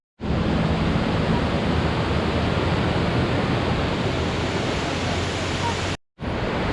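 Ravana waterfall in Ella, Sri Lanka pours in a dense, steady roar of falling water, close and loud, continuous throughout with a brief dropout near the end.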